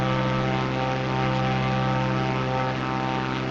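Propeller aircraft engine in a flight simulation game, a loud, steady droning roar with a constant buzzing tone, heard alone and unbroken throughout.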